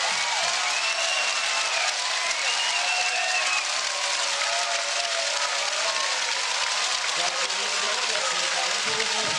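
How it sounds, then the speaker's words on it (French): Crowd applauding at a Swiss Cup basketball final, sustained dense clapping and cheering filling the hall, with a commentator talking over it. "Il mérite les applaudissements évidemment du public, des applaudissements qui vont à toute l'équipe de Patrick Koller"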